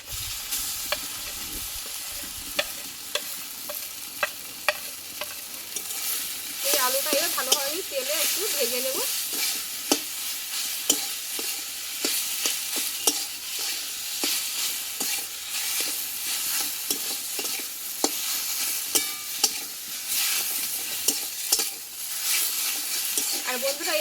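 Grated potato frying in hot oil for Bengali aloo paratha, a steady close sizzle with scattered crackles and stirring clicks. A faint voice-like murmur rises briefly midway.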